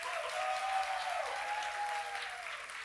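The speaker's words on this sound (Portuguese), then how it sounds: "Uma salva de palmas para André Vieira de Freitas Araújo." Audience applause for a speaker at a talk on heritage and memory, steady and dense clapping that holds at an even level throughout, with a faint tone running beneath.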